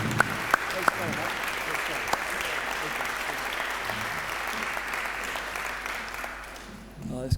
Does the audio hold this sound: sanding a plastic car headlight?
no